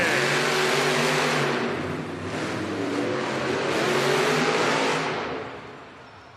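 The El Toro Loco monster truck engine roars at full throttle during racing in an indoor arena, a loud sustained rev that dips briefly and then fades toward the end.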